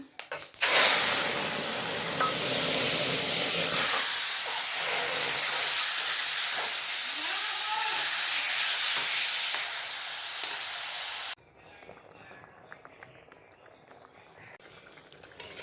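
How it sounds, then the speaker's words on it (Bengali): Loud, steady sizzling and hissing of mustard seeds and dried red chillies hitting hot oil in a wok for about ten seconds, then cutting to a much quieter background. "কড়াইতে তেল দিয়ে দিয়েছি, ফোড়নে দিব সর্ষে আর শুকনো লঙ্কা"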